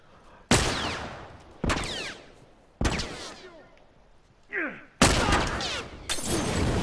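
Gunshots in The Last of Us Remastered: four sharp, loud single reports spaced about a second apart, each ringing out and decaying, with a brief whooshing swipe between the third and fourth.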